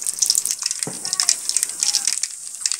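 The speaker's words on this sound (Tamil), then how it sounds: "கடுகு நல்லா பொரிஞ்சதும்," Mustard seeds splutter and crackle in hot oil in a kadai, a dense, bright popping and hissing, fairly close and steady.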